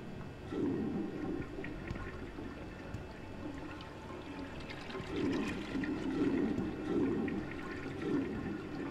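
A toilet flushes inside the video game Deus Ex: Human Revolution, a steady rushing swirl of water that swells and surges in waves for several seconds, fairly close and with no talking over it.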